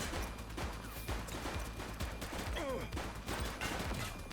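Shootout gunfire in the police game The Precinct, dense crackling shots layered with music and ambient noise, steady and moderately loud throughout.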